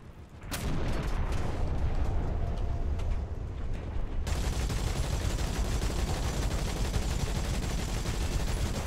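Tank gun firing in War Thunder from a T-64B: a sharp, heavy blast rings out early, followed by a sustained loud rumble and roar of battle and engine noise, close and full.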